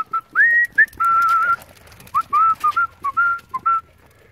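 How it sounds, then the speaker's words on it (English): A person whistles a short, choppy tune of bright sliding notes with brief pauses between phrases, close and clear with no talking. "People ask, why do I whistle?"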